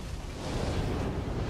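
A dense, roaring blast rumbles through a World of Warships: Legends battle as torpedoes strike a ship, a heavy, broadband explosion that swells and sustains without pause.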